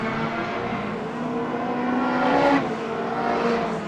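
Stock cars racing in a street stox event, among them Ken Marriott's Peugeot 205, with a steady engine drone and revving that swells briefly as cars pass close by.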